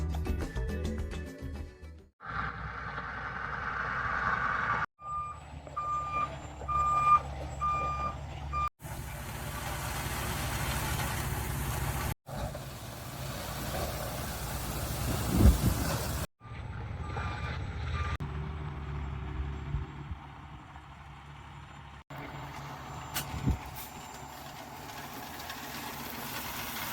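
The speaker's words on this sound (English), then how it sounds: "That is the sound of Toby spreading out my gravel" A truck spreads gravel in an off-grid setting, its engine rumbling with grinding, scraping stone and repeated high reversing beeps, the sound cutting in and out across several close segments.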